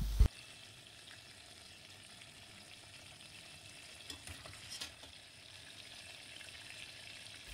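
Pumpkin pieces fry in hot oil, a steady, fairly soft sizzle that continues throughout, with a brief clunk at the start and a few faint clicks and stirs partway through.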